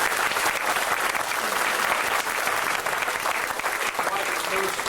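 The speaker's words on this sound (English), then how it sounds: "So I think they all deserve a great big wonderful round of applause." An audience at a school banquet applauds, a dense and steady round of clapping from a crowd that keeps up for about five seconds at full strength.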